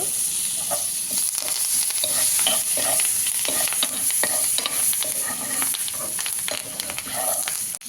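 Onions and curry leaves frying in hot oil, a steady loud sizzle with scraping stirs throughout, no voices.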